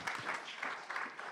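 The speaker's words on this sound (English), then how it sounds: "Round of applause for Click." Steady audience applause at a San Francisco AI pitch night, a brief, even patter of many hands following a startup pitch, moderately loud and without talk.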